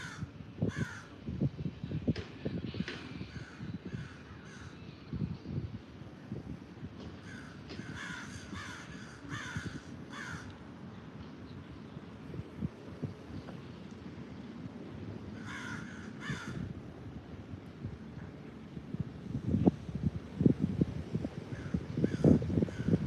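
Crows caw repeatedly outdoors in short bursts of several calls, some at a distance, against soft wind and low rumbling noise that grows louder toward the end.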